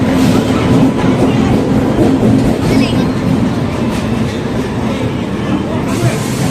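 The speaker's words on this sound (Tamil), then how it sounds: "வேப் 7 கல்யாண் லோக்கோ தான் வந்திருக்கு" A WAP-7 electric locomotive hauling the Kanyakumari superfast express rolls past close by, a loud, steady rumble with rattling wheels that never lets up.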